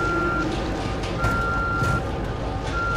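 Periodic electronic beeping from a timed device in the horror video game The Evil Within repeats in steady intervals over a dense rumbling game soundscape.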